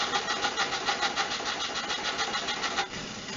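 A VW T3 van's 1.9 TDI diesel engine cranks with a rhythmic starter chug for nearly three seconds, then catches and settles into a lower, steady idle, close and fairly loud.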